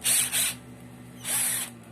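A Mitsushi cordless drill fitted with a flexible extension runs in two short high-pitched whirring bursts, close and fairly loud, with quiet room hum between them.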